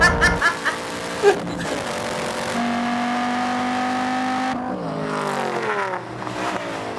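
A Shelby Cobra and a Dodge Viper roar through a drag race. A loud engine snarls and climbs through the gears in a sustained, rising whine, with a few brief voices and laughter near the start.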